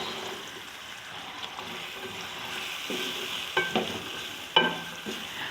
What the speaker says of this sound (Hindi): चनों को सिर्फ मैं मसाले के साथ 5 मिनट भूनूंगी।